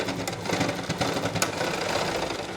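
Close, loud sewing machine stitching elastic onto a pant waistband, a rapid rhythmic mechanical chatter running steadily throughout with no talking.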